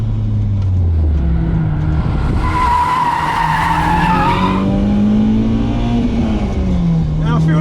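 BMW E30 M3 pushed hard through corners, engine note rising and falling with gear changes as tyres squeal and skid, loud and close from inside the car, with a voice talking over it.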